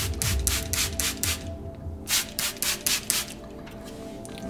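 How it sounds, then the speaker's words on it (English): A spray bottle of water fires a quick series of short, close hissing bursts onto a wig, pausing briefly, then another rapid run of sprays. "Spray it again."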